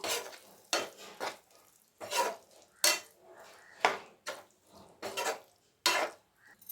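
A utensil scrapes and stirs through prawns frying in a pan for prawn thokku, in rhythmic strokes, about eight quick scraping sweeps with short pauses between.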